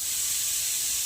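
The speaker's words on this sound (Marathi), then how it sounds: "तिकडे कुकर लावलेला आहे वरण भाताचा." A pressure cooker cooking dal and rice gives off a steady, unbroken steam hiss, fairly faint and heard alone without talk.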